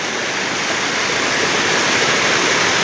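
After heavy village rain, rainwater rushes into the village dam as a loud, continuous broadband roar of flowing water, steady throughout with no talking.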